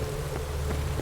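Steady rain in The Witcher 3, a soft, even hiss of falling drops that fills the whole brief moment with no other sounds.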